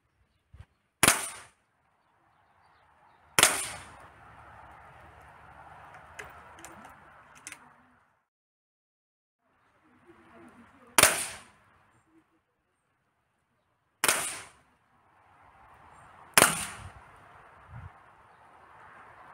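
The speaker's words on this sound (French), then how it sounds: "Voilà, en fait, je tire" Gamo Maxxim IGT nitro-piston air rifle in .177 firing pellets: five sharp, loud reports spaced a few seconds apart, with quieter cocking and handling noise between some of the shots.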